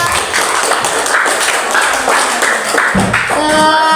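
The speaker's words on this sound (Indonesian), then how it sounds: "Tepuk tangan untuk kita semua." Steady, dense clapping from a group fills the room at close range, a continuous wash of many hands without pause, with a faint voice and tonal sound emerging near the end.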